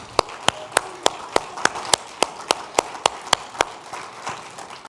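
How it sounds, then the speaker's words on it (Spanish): A church congregation claps in unison for the Lord during a worship service: a sharp, regular beat of a dozen or more claps over a low murmur, loosening and fading at the end. "un fuerte aplauso al Señor"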